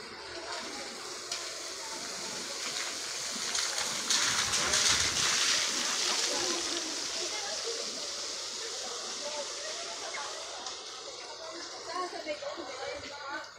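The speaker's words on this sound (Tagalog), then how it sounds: "Dito yung daanan ng tubig." Rainwater rushes and gushes steadily through a drainage channel, a continuous splashing flow that swells briefly in the middle, with people talking over it.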